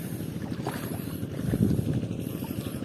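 A tractor engine running in a rural Indonesian setting, a low rumbling drone with wind buffeting the microphone, steady and fairly close, no talking.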